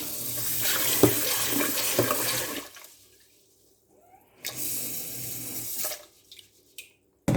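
Water gushes from a tap into a pot of rice in two bursts of a few seconds each, separated by a quiet pause, close and fairly loud.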